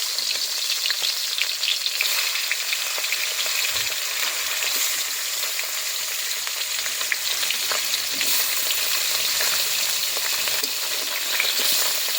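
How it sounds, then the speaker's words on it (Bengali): Fish frying in hot oil in a wok for a vegetable fish soup, producing a loud, dense and unbroken crackling sizzle close up that holds steady throughout. "এবারে তেল গরম হলো, এবারে কড়াইতে মাছ দিচ্ছি।"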